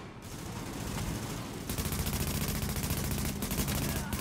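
Rapid automatic gunfire rattles through a firefight in The Division at the WarrenGate Power Plant. Bursts grow into a sustained, loud stream of shots, with no voices.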